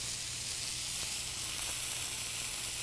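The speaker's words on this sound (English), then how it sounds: "Now they cook their burgers for 2 minutes on each side" A burger patty salted with kosher salt sizzles in butter on a hot griddle, a dense steady frying hiss close up with no talk over it.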